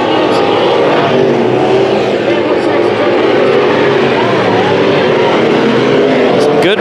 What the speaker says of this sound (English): Some good racing here with the X-Mods.